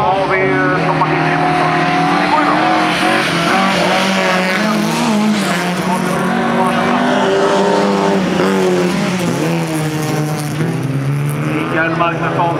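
Folkrace cars run hard on a Vimmerby dirt track, engines revving loudly and continuously with shifting pitch as they race, tires squealing and skidding, while a commentator talks throughout.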